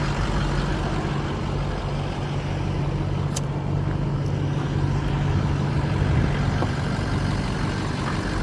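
A vehicle belonging to a storage yard owner drives around close by, its engine a continuous low rumble that holds steady throughout, with no talking.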